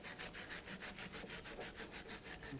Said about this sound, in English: I'll just take a wire brush, clean some of that rust up.